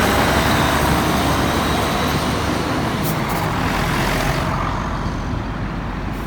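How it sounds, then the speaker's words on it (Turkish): Old city buses moving through traffic in Kosovo, a loud steady roar of heavy engines and road noise passing nearby, easing slightly toward the end. "Şehir içi ulaşım bu otobüslerle sağlanıyor. Bayağı eskiler."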